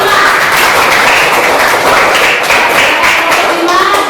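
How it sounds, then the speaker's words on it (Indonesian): Applause from a classroom of students for a presenting group, dense continuous clapping held at a steady loud level from start to end with a bright crackling texture. "Tepuk tangan untuk kelompok 5"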